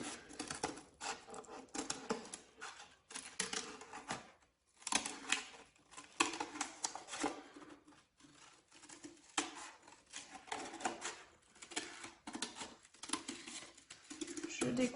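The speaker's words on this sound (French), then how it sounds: "l'extérieur du cercle avec une bonne paire de ciseaux quand même." A good pair of scissors cuts around the outside of a circle traced on cardboard for a donut game, giving repeated close snipping and crunching in quick bursts with short pauses.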